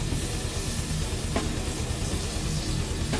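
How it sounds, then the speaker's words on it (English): Meat searing in a deep pan, a steady dense sizzle and hiss throughout with a couple of faint clicks. "I'm just trying to sear up all the sides, and I keep turning it."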